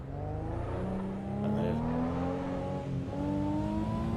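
A racing car engine in Assetto Corsa Evo revs with rising, whining pitch that drops at shifts, steady and loud, without speech.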